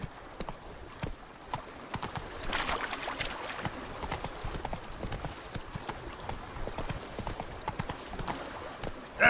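Hooves of Roach, Geralt's horse in The Witcher 3, clip-clop in a rapid steady rhythm, close and fairly loud over a soft ambient background, with no talking.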